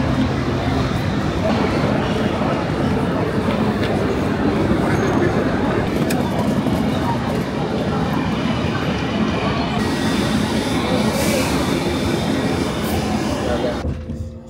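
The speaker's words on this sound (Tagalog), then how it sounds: "Choo-choo train." Train rumbling steadily throughout near Grasmere in the Lake District, a loud continuous roar of wheels and carriages with faint squeals, while voices talk over it.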